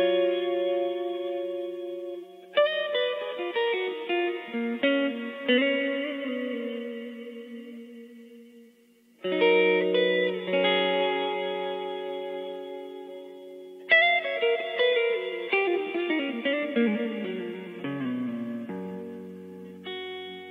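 Electric guitar plays slow notes and quick runs, each ringing out into a long, washy 8-second reverb tail that lingers and overlaps the next phrases.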